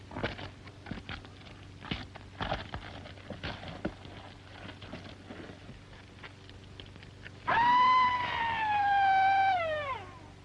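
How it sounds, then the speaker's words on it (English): In a 1932 western film, the eerie cry of the Phantom Killer rises as a long, loud, wavering wail, like a yowling animal, after a stretch of faint footsteps and rustling. "That was the cry of the Phantom Killer."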